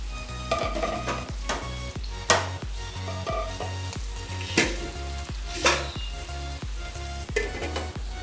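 Tandoori chicken pieces fry in a little oil, restaurant style, with a bright sizzle punctuated by a regular rhythm of spatula scrapes and taps against the pan.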